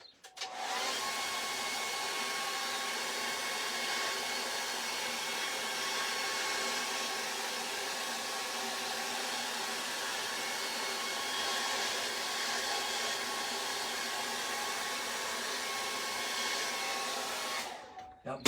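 Hair dryer blowing steadily on wet acrylic paint on a portrait, a constant whooshing hum with a faint whine, switched on at the start and off near the end, close and uninterrupted.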